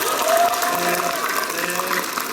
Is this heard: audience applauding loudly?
yes